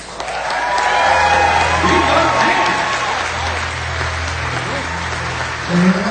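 Sustained audience applause fills the hall at a corporate awards ceremony, a dense, loud wash of clapping with a voice speaking faintly through it.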